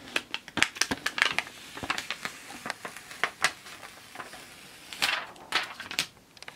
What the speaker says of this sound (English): now that this is cooled, we can peel the carrier sheet off